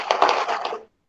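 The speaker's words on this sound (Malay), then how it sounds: "Dengar tu bunyi ais tu." Ice cubes rattle and crunch as a bag of homemade shake ice cream is shaken, a close, brief burst of gritty crushing that stops abruptly.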